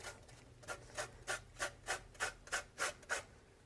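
Zest is grated into a dish with about ten rhythmic rasping strokes in a steady back-and-forth pattern, close and fairly quiet, with no talk over it.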